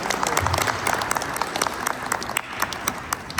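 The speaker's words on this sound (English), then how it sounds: "can you have a round of applause?" Audience applause at a Kenya Independence Day flag-raising ceremony at Brampton City Hall, welcoming the mayor: steady, dense clapping from a crowd that carries through the whole stretch at an even level.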